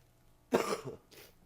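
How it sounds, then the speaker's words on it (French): A single harsh cough from a bad cold, close to the microphone, followed by a softer second cough, in an otherwise quiet room. "j'ai un mauvais rhume, donc si je tousse un peu"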